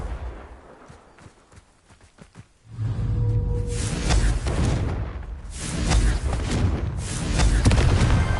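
A Confringo spell blast from the video game Hogwarts Legacy. After a quiet start, loud booming explosive bursts erupt and keep rolling in heavy waves.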